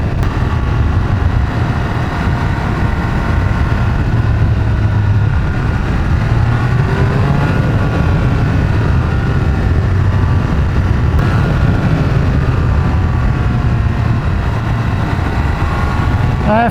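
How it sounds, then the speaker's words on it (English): Triumph Speed Triple 1200 RR or Ducati sport motorcycle engine accelerating with rising induction noise, a loud continuous close roar with shifting pitch sweeps and wind rush throughout. "I'm just starting to get a little bit of induction noise."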